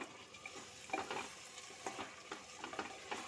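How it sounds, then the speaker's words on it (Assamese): Rice and lentils stir-fry in a pressure cooker pot for khichdi, a soft steady sizzle broken by repeated scraping strokes of a spoon, close and fairly quiet with no voices. "ভাজি আছোঁ, ভালদৰে ভজা হৈ লওক।"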